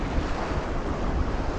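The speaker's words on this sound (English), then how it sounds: "Water's very choppy." Choppy sea waves washing against a pier, a dense, constant rush of surf mixed with wind buffeting the microphone, loud and unbroken throughout.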